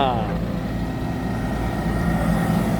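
A Sumitomo SH130-6 excavator engine idling, a steady low droning hum heard close by with someone talking over it.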